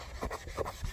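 A sponge soaked in acid cleaner wipes across a vehicle mirror, giving soft, uneven rubbing swipes at close range with no talk over them.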